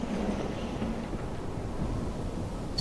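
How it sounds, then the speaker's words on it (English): Steady broadband wind roaring without break through a bleak outdoor area in the video game Bloodborne, a low, even rush with no voices over it. "It's bloody windy."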